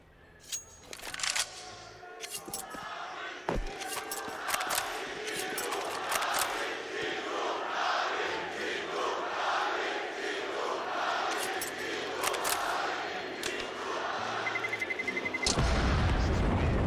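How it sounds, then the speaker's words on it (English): An esports arena crowd at a Navi versus G2 semi-final roars in dueling chants, a dense, sustained wall of voices swelling and pulsing rhythmically, with sharp in-game gunfire and booms cutting through. "Dueling chants."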